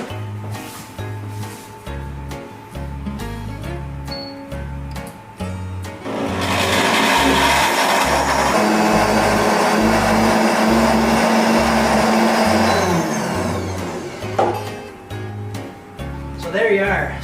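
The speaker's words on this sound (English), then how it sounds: "So there you are, super blender." An ITOP commercial 1500 ml blender, fitted with its sound cover and blending a smoothie, gives a loud, steady whirring roar for about seven seconds in the middle, with rhythmic background music playing before, during and after it.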